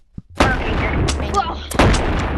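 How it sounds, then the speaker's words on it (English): A shotgun fires in the virtual reality game Animal Company, two loud, sharp close blasts about a second and a half apart, each with a brief ringing tail, following a faint earlier pop. "I think you shot your shotgun."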